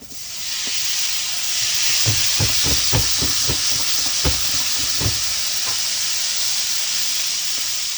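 Steak for fajitas dropped into a hot pan: a loud, close, continuous sizzling hiss that starts abruptly and holds steady, with a quick run of crackling pops in the first few seconds and no speech.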